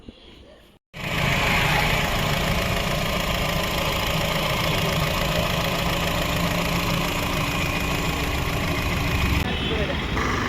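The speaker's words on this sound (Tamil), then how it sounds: "நெக்ஸ்ட் இன்ஜினோட ஐட்லிங் பார்க்கலாம். நல்லாவே ஸ்மூத்தாக இருக்கும்." A Honda City running on CNG idles steadily and fairly loud after a short quiet start, a continuous even engine hum with no revving, ending abruptly.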